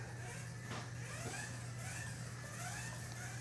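Mini-Z MR04 RC car, a C8, driving on stock tires: a steady high electric motor whine with a low constant hum beneath, rising and falling slightly as the small car speeds up, fairly faint and without talk.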